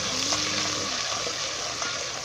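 Ginger and garlic fry with browned onions for a Punjabi potato and pea shorba, giving a steady, dense sizzling hiss that runs unbroken from start to finish, with no talking.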